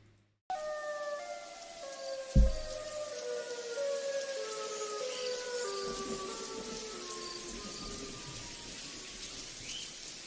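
A wailing siren, likely a hurricane warning siren, sweeps through several long gliding tones over steady rain-like hiss, with one short thump near the start and no talking.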